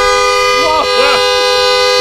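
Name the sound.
loud horn of a Porsche 911 GT3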